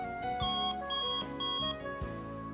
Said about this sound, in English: unique 113 decibel extra loud alarm with adjustable tone and volume control